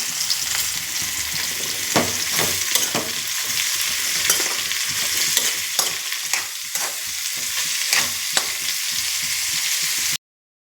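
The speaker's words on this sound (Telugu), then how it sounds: "ఇప్పుడు ఫ్రై చేస్తున్నాను కాకరకాయ ముక్కలన్నీ వేసేసానండి" Bitter gourd pieces fry in oil in a kadai with a continuous, close sizzle, broken by occasional clinks and scrapes of stirring, with no voices throughout.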